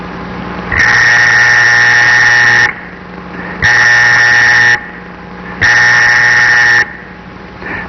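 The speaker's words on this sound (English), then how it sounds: "I'll see if I can get a current strong enough to make this little buzzer go." A small electric buzzer driven by a photoelectric cell sounds in three loud, steady buzzing bursts of about two seconds each, with short quieter gaps between them and a faint hum underneath.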